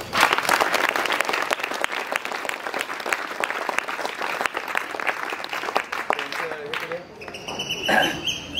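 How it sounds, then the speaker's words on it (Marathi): Sustained audience applause and clapping for students' Diwali fort-building competition entries at an academy, dense and loud for about seven seconds before thinning out and fading near the end. "ह्याच्यासाठी टाळी वाजवा"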